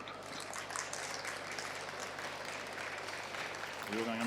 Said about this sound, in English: can you put your hands together and a big round of applause for our expert panel